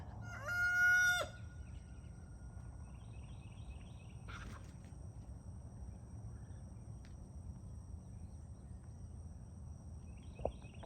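A rooster crows once at the start, a loud harmonic call lasting about a second, then fades into a quiet outdoor yard with soft insect chirps and occasional faint bird calls.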